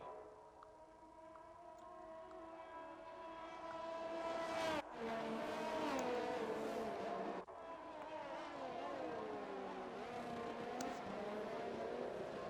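Racing cars in a Sochi league race in a video game revving as they weave to warm their tyres, a steady layered engine whine that cuts off sharply twice before picking back up.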